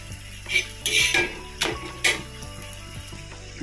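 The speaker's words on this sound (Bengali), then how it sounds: "আমি এখন সোয়েটার গায়ে দিয়েই পরোটাটা ভেজে নিচ্ছি।" A paratha frying in a pan late at night, with a steady close sizzle broken by a few louder scraping and stirring clatters against the pan.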